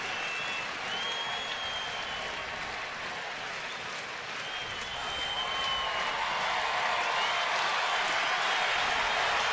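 Baseball crowd of over 31,000 at a night game, Detroit at Cleveland, on its feet cheering and applauding in a steady, distant roar that swells slightly toward the end.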